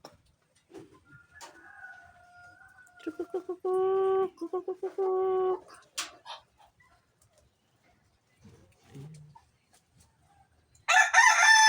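A rooster crows clearly nearby, a long drawn-out call, followed by scattered clucks and softer bird sounds, ending in a burst of noisy hiss.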